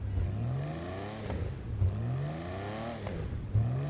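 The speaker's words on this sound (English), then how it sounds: "From startup to driving to letting off the throttle, you rev this car and you will get backfires." A Stirling GT sports car in GTA Online revs in repeated rising sweeps, its engine note climbing then dropping, with sharp exhaust backfire pops as the throttle lifts, close and loud.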